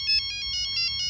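A mobile phone rings with a repeating electronic ringtone, short bright bursts pulsing in a steady rhythm over a low background hum, clear and close.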